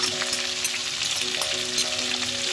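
Onions fry in a pan for coconut chicken thighs, making a close, steady crackling sizzle with a faint tonal hum underneath and no talking.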